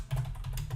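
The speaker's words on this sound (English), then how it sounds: "I'm clicking right now on the keyboard on Shift 3, which is the number sign" Keys tapped on a computer keyboard to enter Shift 3 for the number sign, giving a few quick soft clicks close by over a steady low hum.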